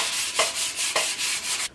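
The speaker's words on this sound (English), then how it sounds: "Just gonna finish up sanding the handle a little bit more" Steady back-and-forth rasping of sandpaper on a wooden axe handle, close and rhythmic, with a few firmer strokes standing out.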